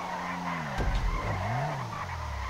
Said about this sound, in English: he slides around that corner listening to those wheels squeal.